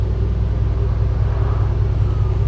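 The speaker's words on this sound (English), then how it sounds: "what I can do with the engines and thruster controls now is just nudge the boat forward like this" A steady, deep engine rumble from a Sunseeker Manhattan 68 motor yacht drones close by without pause while docking, a low throb with only slight shifts as the engines nudge the boat forward.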